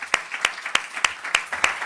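An audience at a seminar claps for a speaker, giving six evenly spaced claps in a brisk steady rhythm, close and crisp, with nothing else audible.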